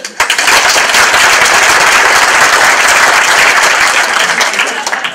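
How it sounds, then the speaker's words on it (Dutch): Loud, close applause bursts out for a woman named Marieke at a gathering, a dense continuous roar of many clapping hands that holds strongly for about five seconds before easing slightly. "Graag een warm applaus voor Marieke."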